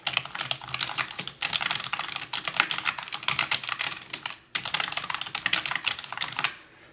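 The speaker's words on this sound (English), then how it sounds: "Now I'm going to go ahead and full press on a few keys." Rapid clicky keystrokes on an NPET K10-WH mechanical-feel membrane-style keyboard, keys fully pressed in quick irregular bursts with a brief pause midway, fairly close and moderately loud.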